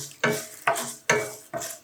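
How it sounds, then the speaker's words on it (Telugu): Garlic, spices and urad dal sizzling in hot oil in a pan, stirred in four quick, evenly spaced strokes, each with a burst of crackling. "అటుపక్క వెల్లుల్లి వేగుతూ ఉంటుంది, ఇటుపక్క మినపప్పు వేగుతూ ఉంటుంది"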